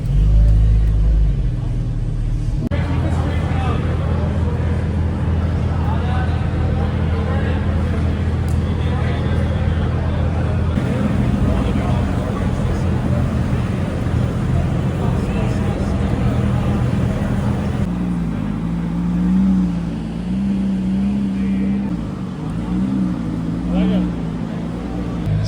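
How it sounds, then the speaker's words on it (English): A Nissan Skyline R34 with an RB engine rumbles as it rolls into an indoor import car show, its low burbling exhaust steady and close, shifting pitch slightly near the end, with people talking over it. "It's a very nice R34 rolling in there. You can hear the RB bumbling away"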